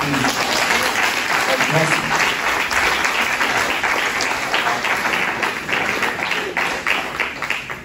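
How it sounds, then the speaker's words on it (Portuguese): A church congregation applauds loudly and continuously, a thick wash of clapping that thins slightly toward the end, with voices mixed in. "Então pode aplaudir o Eterno."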